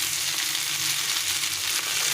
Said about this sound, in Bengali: এটাকে ভালো করে একটু ভেজে নেব